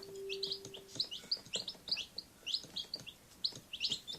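Baby chicks chirping in quick, high repeated peeps, fairly faint and continuous, with a few scattered calls overlapping throughout.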